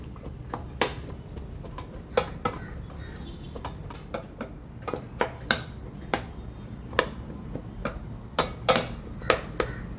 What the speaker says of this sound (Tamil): நீங்கள் ஒரு டம்ளர் ஒன்று எடுத்து இந்த மாதிரி கொத்தி கொத்தி மாவை உடச்சிக்கிறலாம்.